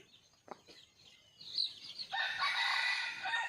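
Breeding hens of a Thai gamefowl line nearby, with soft low clucks followed by a rising, drawn-out crowing call that continues to the end.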